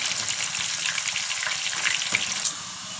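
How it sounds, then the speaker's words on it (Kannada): A wet, water-soaked snack mixture frying in hot oil, busy close crackling and popping in quick bursts over a constant hiss, briefly louder near the end. "ಇದನ್ನು ನೀರೊಳಗೆ ಇರುತ್ತಲ್ಲ, ಇದು ಇಸ್ಕಿರ್ತೀವಲ್ಲ, ಹಂಗಾಗಿ ಸ್ವಲ್ಪ ಚಟಪಟ ಚಟಪಟ ಅಂತ ಸೌಂಡ್ ಬರುತ್ತೆ"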